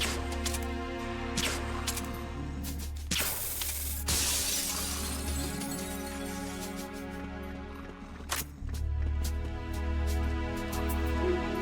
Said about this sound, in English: Unique sounds when you walk on the shattered glass.